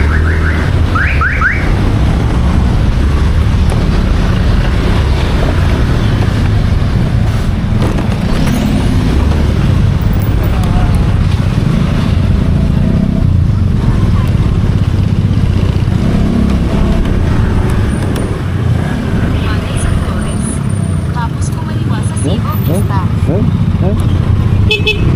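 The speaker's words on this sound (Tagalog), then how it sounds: "Grabe yung traffic mga idol." Heavy midday road traffic in the Philippines: a constant low rumble of engines with occasional short horn toots, and a voice faintly audible in the mix.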